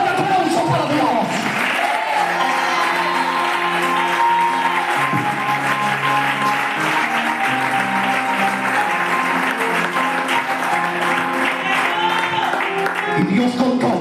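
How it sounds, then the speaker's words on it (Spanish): Loud applause from a church congregation during a Spanish-language youth sermon, sustained and dense for the whole stretch, with music or sung tones running underneath. "Ese fuerte aplauso para Dios."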